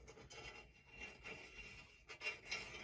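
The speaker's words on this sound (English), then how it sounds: "That's that grit working in there." Lapping compound grit grinds between the blades of a push reel mower, a faint, rough rasping scrape repeating in uneven strokes close by.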